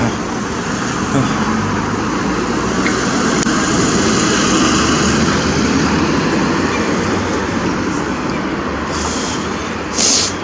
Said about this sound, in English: Cars are coming, they're zooming along, there's one right behind him.